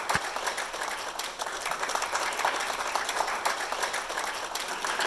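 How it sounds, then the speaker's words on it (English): Graduates at a commencement ceremony receive a sustained round of applause from the crowd, the clapping dense and even for several seconds, with a single low thump near the start. "let's give you a round of applause for that."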